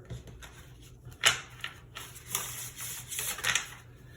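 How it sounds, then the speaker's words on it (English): A tarot deck is given a hard shuffle, with a sharp riffle burst near the start, then several rougher flurries of card rustling and slapping. The sound is close and moderately loud, with no voices. "Like a hard shuffle for this deck"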